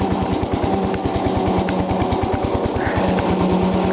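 A small single-cylinder engine fitted with a Norman Thayer throttle runs steadily at a fast idle, its rapid even firing pulses close and loud throughout with no talk over it.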